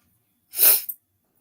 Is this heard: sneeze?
yes